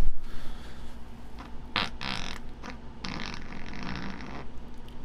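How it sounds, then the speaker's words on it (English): A hollow-sounding fart from someone who has not eaten for a while: a few short, breathy bursts close to the mic, with no talking. "that's what I call a hollow fart"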